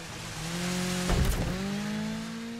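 A rally car braking in DIRT 5, engine note dropping steadily from a high rev while tyres scrub and a brief burst of noise cuts through, close and continuous with no talk.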